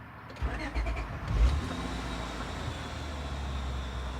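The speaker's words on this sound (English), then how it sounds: "So I'm going to start the engine now." A warm Honda Odyssey engine cranks and catches, a short burst of starter noise settling into a steady low idle hum nearby.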